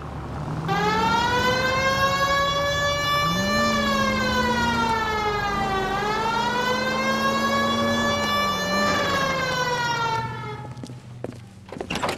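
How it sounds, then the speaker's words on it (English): A police car siren in the video game L.A. Noire wails steadily and loudly for about ten seconds, rising and falling slowly in pitch before cutting off. "Hit the siren."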